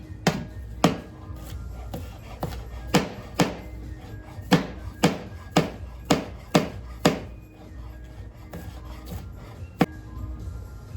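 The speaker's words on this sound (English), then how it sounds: "I'm gonna start by cutting up my scallion" A knife chops through scallion on a cutting board in a series of about a dozen sharp, evenly spaced thunks, close and distinct, with a short pause before a final cut.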